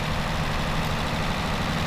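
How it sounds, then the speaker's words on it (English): A Zetor Crystal tractor engine in a farming video game idles with a steady low rumble, loud and continuous throughout, with no talk over it. "We can see if our little tractor here can make it."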